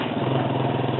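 A 1990s motorcycle engine runs with a steady throbbing exhaust note, close and continuous over about a second, even in level with no gear changes.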